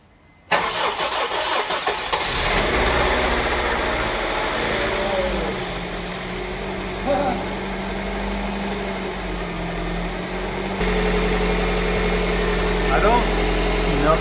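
A JDM Honda B20B engine swapped into a 1999 Honda CR-V cranks and catches abruptly, then settles into a steady, fairly loud idle with a constant hum that shifts slightly in pitch partway through.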